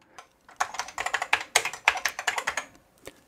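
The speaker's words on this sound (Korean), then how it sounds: "그야말로 기계식 키보드 원조죠." Rapid clacking keystrokes on the old mechanical keyboard of a Daewoo IQ-1000 MSX1 computer, a quick uneven burst of sharp clicks lasting a few seconds, close and alone.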